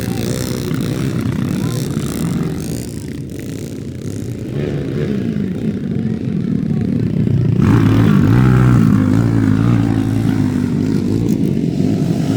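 Underbone motorcycles racing on a flat track in a beginner championship final in Mayorga, Leyte, their engines a steady, loud, droning buzz that swells near the end, under a commentator's continuous talk.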